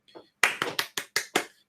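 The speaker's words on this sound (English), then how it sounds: "And the prize is this round of applause." A single person claps six times in quick, evenly spaced succession, crisp and close, after a faint softer sound at the start, as a small mock round of applause.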